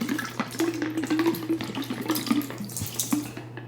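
Water poured over a car, a splashing, trickling rush with uneven drips and spatters, close and moderately loud, over a low steady hum.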